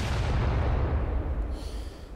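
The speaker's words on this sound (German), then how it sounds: "Eine fette dicke Explosion war das." A deep, rumbling video game explosion, from Spec Ops: The Line, booms and then fades into a lingering low roar, heavy and loud with no voices.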